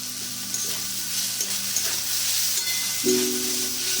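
Mixed vegetables with fried eggplant, chili powder and oil sizzling in a pan, a steady close frying hiss with occasional stirring scrapes.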